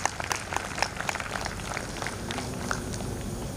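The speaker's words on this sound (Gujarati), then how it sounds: "તો હવે એકવાર તાળીઓથી એમને વધાવી દઈએ આપણે." Crowd applause welcoming sponsors at a Kapol community bhog gathering, scattered hand claps that are moderately loud and continue irregularly throughout, with faint background murmur.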